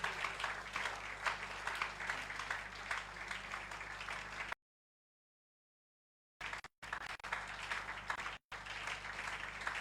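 A church congregation applauds together, steady dense clapping lasting several seconds before cutting out abruptly and resuming in broken bursts, no speech over it.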